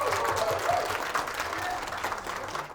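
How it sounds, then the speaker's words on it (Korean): Audience applause welcoming a clinic director onto the stage at a slow-aging health seminar: steady, dense clapping from a sizable crowd, sustained and fairly loud throughout with a faint voice underneath. "뜨거운 박수로 환영해 주시기 바랍니다."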